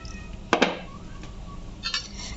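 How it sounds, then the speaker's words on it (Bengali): A metal lid lifted off a cooking pot of pui shaak dal makes a bright clink and scrape, followed by a second lighter rattle a moment later, close and brief against a quiet kitchen. "ঢাকনাটা খুলছি।"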